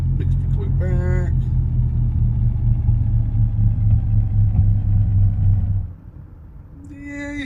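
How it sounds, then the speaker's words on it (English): A BK160 Gabriel light aircraft's propeller engine at shutdown: a loud, steady low rumble that winds down and cuts off abruptly near the end, followed by a quieter tail, with a voice speaking briefly over the engine. "I always like to grade the propeller shutdown."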